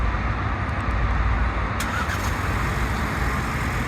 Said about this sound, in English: once you double click the remote start button, the vehicle will turn on, and it's running pretty smoothly